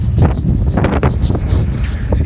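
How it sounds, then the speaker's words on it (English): Wind gusting across an open farm field in spring at corn planting time, a steady broadband rush with mic buffeting, loud and continuous. "I'm trying to block the wind."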